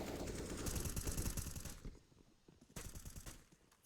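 Rapid gunfire in Counter-Strike, a dense rattling burst of automatic shots followed by a quieter pause and a second burst, heard close with no talk over it.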